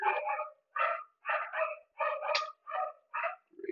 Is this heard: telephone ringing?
no